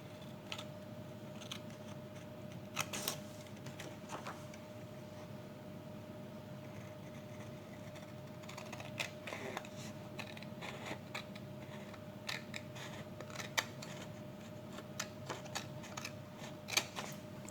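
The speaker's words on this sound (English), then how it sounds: "using the scissor, I have to cut the paper" Scissors cut through chromatography paper in a quiet room, a series of soft, sporadic snips and crisp clicks scattered unevenly over a low steady hum.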